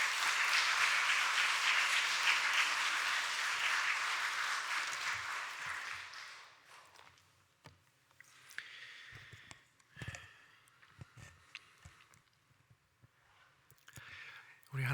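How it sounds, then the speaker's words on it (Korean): A church congregation in a Korean Presbyterian service gives a warm welcoming applause, a loud, dense burst of clapping for about six seconds that then fades into a quiet hall with scattered small noises. "목사님 나오실 때 큰 환영의 박수로 맞이하도록 하겠습니다"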